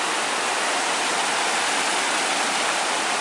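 A waterfall near Lake Teletskoye roars with a steady, dense, hissing rush of falling water, loud and close, unbroken throughout with no voices.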